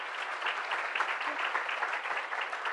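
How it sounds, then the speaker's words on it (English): Audience applause at a climate summit welcoming session, even continuous clapping from a room full of people at moderate volume, with no voices over it. "Round of applause."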